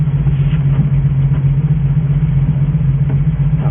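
A Ford F350 truck engine running steadily right after its first start in twenty years, a loud, close, even low rumble with a regular idle pulse and no talking.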